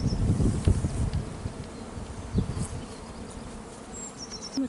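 Honey bees buzz around an open nucleus colony hive, a dense continuous drone of many wings close by, with occasional louder passes as bees fly near.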